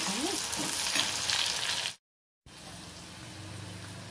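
Onions and green chillies frying in a pan for a duck egg and dried shrimp curry, with a loud, close, continuous sizzle that cuts out briefly in the middle and then resumes.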